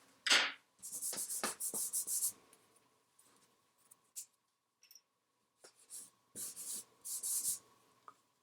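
Charcoal pencil drawing box outlines on paper, close scratchy strokes in short bursts separated by pauses, with a few taps and light rubs, and no speech.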